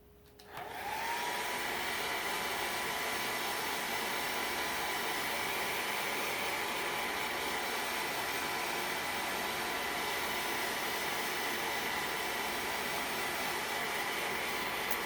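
Hair dryer blowing continuously on a craft piece, a steady loud whooshing roar that switches on at the start and runs unbroken, close by and alone.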